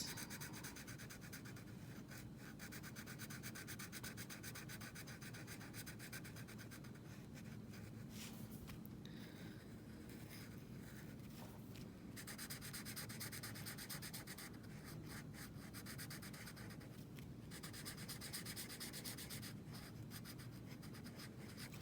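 A pencil or marker colors in a snowman drawing with steady, soft scratchy strokes, quiet and close, continuing without pause.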